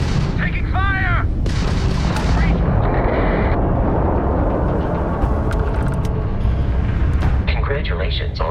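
Starship combat in the space game Starfield: weapon fire booms and rumbles continuously, with laser-like zaps and chirping effects layered over, loud and dense, and a synthetic voice briefly speaks near the start.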